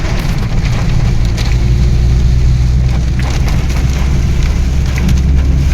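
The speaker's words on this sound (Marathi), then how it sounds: "आम्हाला आपट्यावरती जाताना भरपूरच पाऊस लागला आहे" Heavy rain drums steadily on a car driving home through a downpour, a loud, constant wash of noise over a low engine and road rumble with no voices.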